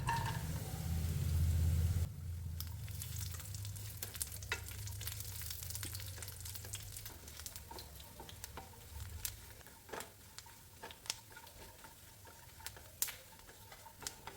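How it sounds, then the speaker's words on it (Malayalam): Small chopped coconut pieces fry in a couple of spoons of ghee in a pan, a steady close sizzle with light crackles and occasional clicks, louder at first then settling into a softer patter. "ഇതിലേക്ക് നാളികേരക്കൊത്ത് ചെറുതാക്കി മുറിച്ചാണ് ഇതൊന്നിട്ട് വറുത്തെടുക്കാം"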